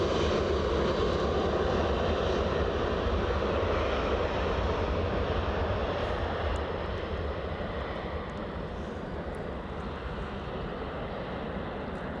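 JetBlue and United Airlines jets passing overhead, a broad steady engine roar that holds for several seconds and then slowly eases, continuous and fairly distant, with no talk.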